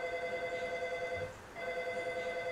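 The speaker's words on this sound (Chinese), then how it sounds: "电话来了" A telephone rings with a steady, bright electronic tone that repeats, pausing briefly midway before resuming, moderately quiet with no voices over it.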